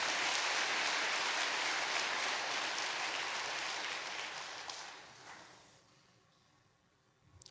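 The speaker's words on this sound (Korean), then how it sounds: "아버님께 어머님께 큰 감사의 박수 올려주시면 좋겠습니다" An audience claps in steady, sustained applause for a father and mother at a religious gathering, and it fades away over the final seconds.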